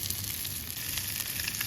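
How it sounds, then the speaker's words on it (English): Fish sizzling steadily in a pan while being seared on the outside during a shore-fishing catch-and-cook on Chesil Beach, a continuous close frying hiss with no talk. "There we go, we're frying away nicely."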